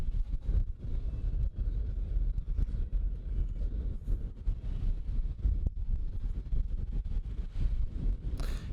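Strong wind buffeting the microphone on an outdoor disc golf course during a Masters world championship round, a steady, loud low rumble with gusty surges throughout and no talk.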